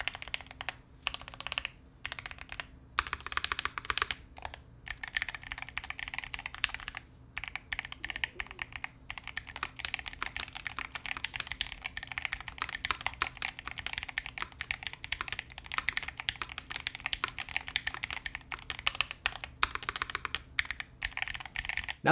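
Fast, steady typing clatters on a Varmilo gaming mechanical keyboard, with dense close-up key clicks and brief pauses, no voices.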